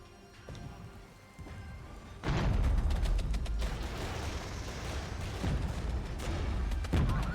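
Artillery fire in the Regiments war strategy game, a loud sustained barrage of booming blasts and crackling impacts that erupts after quieter mechanical clanking and continues densely to the end, with no voices.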